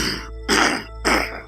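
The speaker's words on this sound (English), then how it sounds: "Excuse me for the coughing there." Three rough, throaty coughs close to the microphone, evenly spaced about half a second apart, over a low steady hum.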